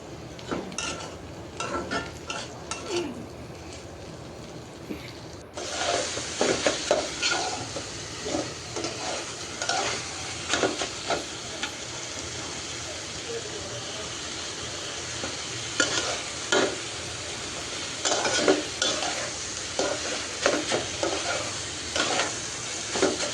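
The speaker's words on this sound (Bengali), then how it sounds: "ঢেঁড়স ভাজিটাও আমার ভাজা ভাজা হয়ে গেছে," Okra sizzles in a frying pan while a utensil stirs it, the hiss jumping louder a few seconds in and holding steady, with repeated scraping strokes against the pan and no talking.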